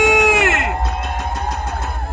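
A loud crowd claps in a steady rapid rhythm and cheers, with a voice rising over the start of the applause.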